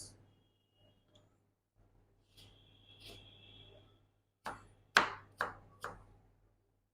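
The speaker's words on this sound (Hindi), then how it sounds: "ये क्यूब कटिंग है, इसकी क्यूब कटिंग कर लेंगे, दरमियाने से इसके पीस।" Food is cut into cubes for a Russian salad. A knife taps lightly against a cutting board, then lands four sharp, distinct chops in a quick, close-up rhythm.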